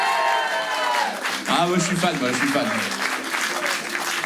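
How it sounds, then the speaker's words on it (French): Audience applause for a singer at a live hits show, a steady wash of clapping throughout, with a host's voice talking over it. "On peut l'applaudir encore très fort s'il vous plaît."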